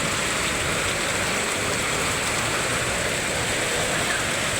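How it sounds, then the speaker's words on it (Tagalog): Heavy rain pours steadily throughout, a dense, constant hiss of water drumming on surfaces with no pauses or voices. "Lakas ang ulan guys."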